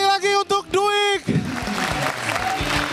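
Audience clapping at a stand-up comedy competition show in Indonesia, rising after a burst of music-like tones and continuing as a steady wash of applause.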